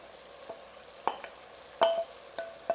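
Browned meat sizzles in a pan as celery leaves, parsley and fresh mint are stirred in for a celery stew, with soft frying hiss under several sharp, close spoon clinks and scrapes against the pot.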